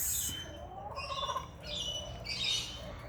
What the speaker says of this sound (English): Oh, we get so many different birds.